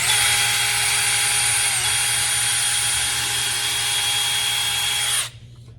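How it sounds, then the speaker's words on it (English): A power drill bores a pilot hole through the center of a wooden snowflake, whining steadily and loudly at close range for about five seconds before cutting off abruptly. "I'm gonna go right through the center, pre-drill a hole."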